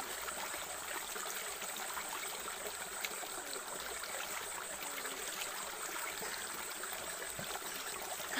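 River water flows steadily at a village bathing spot in Africa, a constant soft hiss and trickle with no speech, faint and even throughout.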